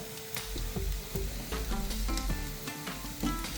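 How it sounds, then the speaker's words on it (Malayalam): Masala for a Kottayam-style Kerala beef fry sautéing in a pan, a steady close sizzle with rhythmic scraping strokes of a spoon stirring through it. "ഇത് ഇപ്പം എൻ്റെ ആ ഒരു പച്ചമണം മാറുന്നവരെ നല്ലതായിട്ട് വഴറ്റിയെടുക്കുകയാണേ"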